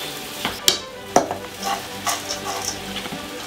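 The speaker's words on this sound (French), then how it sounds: "On mélange, tourne et retourne." A potato mixture for tater tots, seasoned with salt and pepper, is stirred and turned over, with scattered sharp clicks and scrapes of a utensil against the bowl over a soft, faintly sizzling background.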